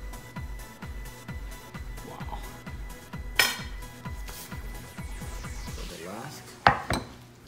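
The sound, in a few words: plating asparagus and potatoes, dishes clinking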